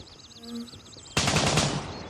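Loud burst of automatic gunfire in the military shooter Gray Zone Warfare, erupting suddenly after a quiet lead-in and continuing as a dense rattling volley that slowly fades.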